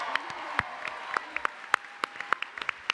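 Audience applause at a San Diego Comic Con 2017 panel for the Hey Arnold cast, a thin scattering of sharp individual claps over a low crowd murmur, fairly quiet and spread out.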